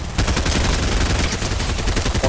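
Combat shotgun fire in a Fortnite OG Duos battle royale match, a dense run of rapid booming blasts close and loud, with game action noise and no talking.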